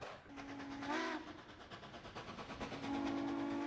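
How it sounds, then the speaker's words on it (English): A steam locomotive whistle blows twice, a short rising toot then a longer steady blast, over the rhythmic chugging and clatter of a moving train. "sound of a steam whistle"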